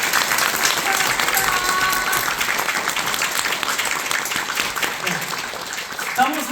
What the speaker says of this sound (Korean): 다 같이 한번 박수 한번 드리는 게 어떨까 싶습니다